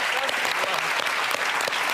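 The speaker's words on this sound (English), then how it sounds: "And I would also, Somi, I'd like to give you a round of applause for what you're doing." Studio audience on a doctors talk show applauding, a dense, steady wash of clapping at close range and fairly loud for a brief moment.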